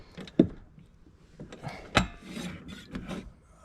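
A bicycle disc brake rotor rubs against the pad after the fork has been tightened down, giving a raspy scraping with two sharper strokes and softer intermittent rubs nearby.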